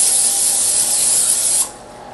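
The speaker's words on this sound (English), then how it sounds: "spray a 9x13 cooking pan with Pam" A can of Pam cooking spray hisses in one continuous close burst onto a 9x13 cooking pan for about a second and a half, then cuts off into quiet room tone.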